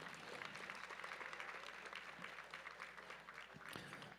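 Faint, distant audience applause at a powerlifting meet awards, a steady patter of many hands continuing for several seconds in a large room.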